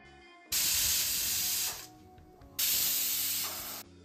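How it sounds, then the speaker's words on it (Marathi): Pressure cooker on medium flame cooking pav bhaji vegetables, releasing two loud bursts of hissing steam whistle, each lasting over a second, with a quieter pause between them. "आता हे सगळं आपल्याला कुकरमध्ये शिजवून घ्यायचं आहे 2 ते 3 शिट्ट्या काढून"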